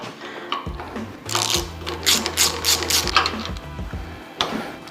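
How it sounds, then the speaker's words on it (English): A small hand ratchet snugs up bolts on a 40HP VW engine, giving a quick run of close, fast mechanical clicks in bursts with light metallic handling around it. "You see I'm using this little baby ratchet."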